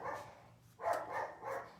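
Dogs barking indoors nearby during a furniture-painting session, with three loud bursts of barking, each about a third of a second long and the later two close together.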